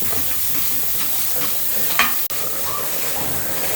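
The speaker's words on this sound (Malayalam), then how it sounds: "തേങ്ങ വറുത്തെടുക്കാം." Grated coconut roasting in a little hot oil in a pan gives a steady, close sizzle and soft hiss, stirred now and then, with one brief scrape or knock partway through.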